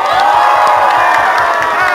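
A festival crowd at a fan convention cheers, whoops and claps loudly, mixed voices and shouts over a steady low pulsing beat.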